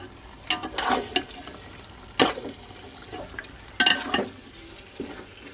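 Yogurt and tomato cook in a pan for chicken biryani, giving a soft bubbling sizzle with a few stirring scrapes and clatters over about five seconds, near and moderately loud, with no talk.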